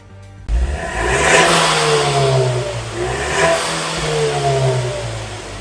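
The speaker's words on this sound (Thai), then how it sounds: "เดี๋ยวเรามาฟังเสียงท่อกันดีกว่า" A Ford Mustang EcoBoost engine revs hard in several rising bursts, the exhaust roaring loud and close with a deep rumble that swells and falls.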